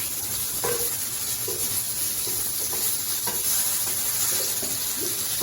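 Potatoes with cumin, curry powder and ginger are stirred in a frying pan, a steady close sizzle broken by soft scraping and clinking strokes of the spoon at irregular intervals.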